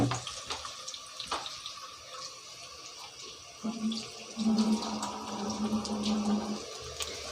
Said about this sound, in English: Now I add rice in this.